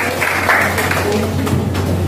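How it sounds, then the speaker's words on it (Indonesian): Brief applause from an audience at a government outreach session on a regional youth regulation, soft scattered clapping over a low constant hum, fairly thin and short. "Tepuk tangan buat kita"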